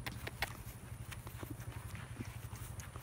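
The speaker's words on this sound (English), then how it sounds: "Put him on the road there so I can show him his shoes." A horse wearing front shoes walks on a road, its hooves clip-clopping in a steady, fairly quiet rhythm with a low hum behind.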